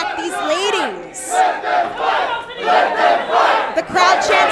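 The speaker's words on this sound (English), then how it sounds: "The crowd chanting, "Let them fight."" A women's wrestling crowd chants "Let them fight" in loud, rhythmic, rising and falling waves of massed voices filling the arena.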